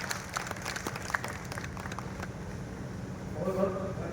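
An audience claps at a Hindi kavi sammelan poetry gathering, a dense patter of applause running throughout and swelling slightly toward the end, with a voice speaking over it near the close.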